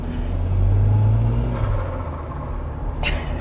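A Volvo 240 Turbo fitted with a new exhaust driving on the road, a steady low engine rumble that swells briefly then settles into cruising drone, with a short clunk near the end.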